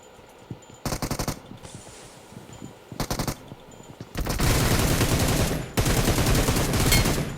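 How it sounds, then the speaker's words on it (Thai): Gunfire in PUBG Mobile: short bursts of rapid automatic fire at about one and three seconds, then sustained heavy volleys from four seconds on, loud and close with no talk over it. "ยิงกันแล้วทุกคน"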